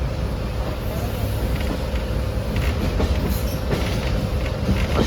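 A passenger express train rolls slowly along the main line on the approach to Hyderabad, Pakistan. A steady, close rumble with soft clickety-clack from the wheels sounds from inside the carriage and continues without a break.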